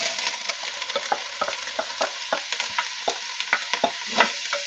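Chopped onion and carrot sizzling in a pan while a wooden spoon stirs and scrapes, a steady crackle punctuated by frequent rhythmic scraping strokes, close and clear.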